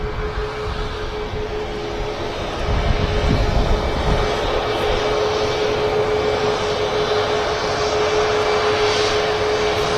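TUI Boeing 737 MAX 8 jet at Manchester Airport, a steady engine rumble with a constant whine tone, stepping slightly louder about a quarter of the way in and holding, no talk.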